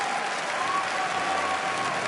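Crowd applauding and cheering at the Pokémon World Championship 2014 video game finals after the Masters Division title is decided, a dense, steady wash of clapping from a large audience filling the whole stretch.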